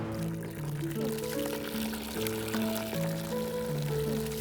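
Tap water runs into a bucket at a car wash, a continuous splashing pour under a bright, stepping musical tune, with no talk during it.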